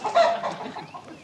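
A chicken clucks in a few quick, close, fairly loud bursts, alone without talk.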